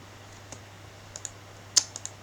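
Computer keyboard typing and mouse clicking during CAD drafting work, a handful of sparse, light clicks and taps spread out, close but quiet over a low electrical hum.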